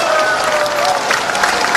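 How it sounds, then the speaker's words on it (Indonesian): An audience at the 26th anniversary event and national working meeting of the PKB party applauds a professor, loud, dense clapping from many people mixed with crowd murmur and cheering, continuous through the short stretch. "Sekali lagi tepuk tangannya beliau untuk Profesor Sudi Dasko."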